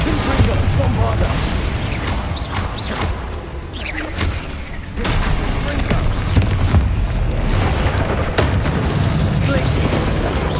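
Spell explosions in the Hogwarts Legacy video game, repeated loud booms and whooshing blasts in a continuous combat roar, with voices calling out over the impacts.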